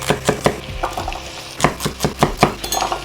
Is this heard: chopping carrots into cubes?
yes